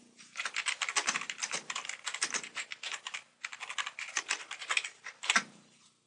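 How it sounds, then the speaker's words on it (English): Typing on a computer keyboard, a close run of rapid, irregular key clicks in quick bursts with a short pause partway through, fairly quiet and with no talking. "Simply click Add a Question and type it in the box."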